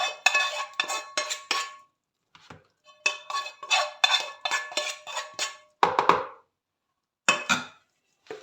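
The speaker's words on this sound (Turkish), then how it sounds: "Evet böyle bir kaşığımla karıştırıyorum." A metal spoon stirs bulgur and oil in a bowl, giving quick runs of close, bright scraping clinks in bursts with short pauses between them, and no talking.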